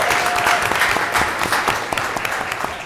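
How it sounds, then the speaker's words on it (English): Applause at a township council meeting for a junior cheer squad and their team, a steady wash of many hands clapping fairly close, dense and even throughout with no voices over it. "We'll give these guys a round of applause."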